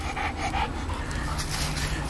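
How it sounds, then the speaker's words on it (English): A truffle-hunting dog pants rapidly and steadily up close, quick rhythmic breaths continuing throughout over outdoor background noise. "Dogs are going berserk."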